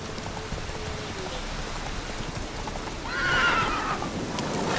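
Horse in The Witcher 3: Wild Hunt gives a loud whinny near the end over a steady background of hooves and rain-like noise.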